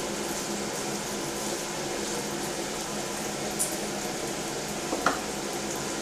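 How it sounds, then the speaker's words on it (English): Bacon frying in a pan makes a steady, even sizzling hiss close by, with a couple of faint pops near the end. "Bacon don't just happen, folks. You gotta cook it. Gotta fry it"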